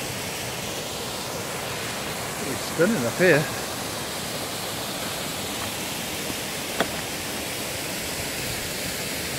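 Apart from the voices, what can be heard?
waterfall on mountain walk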